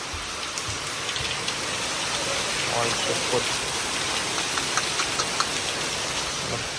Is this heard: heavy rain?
yes